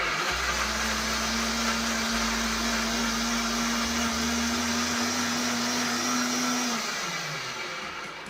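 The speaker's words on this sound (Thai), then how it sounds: "ปั่นกระชายเนี่ยเราก็จะปั่นกระชายนะคะ" A blender whirs steadily as it purées fingerroot (krachai) with water, a loud continuous motor drone holding for several seconds before winding down at the end, with no voices.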